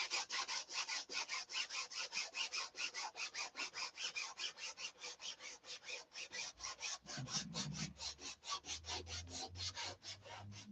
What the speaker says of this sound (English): I'm sanding this cowl with 180, the glass, the resin.